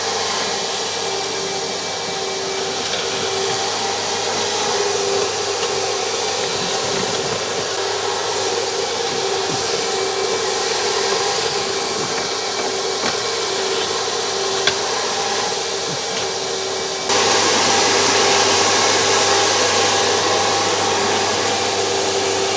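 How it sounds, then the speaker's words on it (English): GVS 3600 gutter vacuum with three built-in motors, aluminium poles and a flexible hose, cleaning house gutters with a continuous loud whirring roar that steps up in level near the end, with no voices. "So the gutter vacuum I'm using is a GVS 3600. 3 motors built into that."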